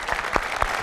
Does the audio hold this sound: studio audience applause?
yes